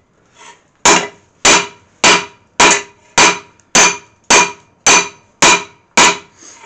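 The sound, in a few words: hammer striking hot metal while forging a bill hook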